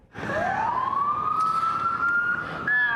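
A police car siren wails upward and holds a loud, rising tone close by at a street protest in downtown Indianapolis, sounding over a steady traffic background.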